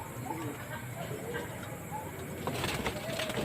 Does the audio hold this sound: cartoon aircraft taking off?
no